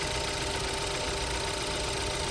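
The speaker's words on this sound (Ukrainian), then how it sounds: "Двигун працює рівненько" A 2014 Ford Escape with a 2.0 EcoBoost engine, warmed up, idles smoothly with a steady, even hum and faint tonal drone, close and constant with no talking.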